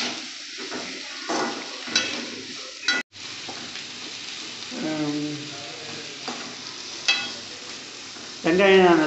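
Onions frying in oil in a pan, a bright continuous sizzle broken by spatula stirs and clinks, with a voice talking in stretches over the cooking.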